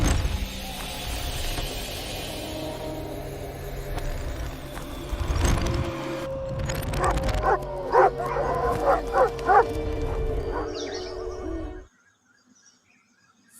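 A pack of dogs outside a house in an animated horror story, barking and yipping in a cluster of sharp repeated barks with some whimpering over a low rumble, then cutting to near silence.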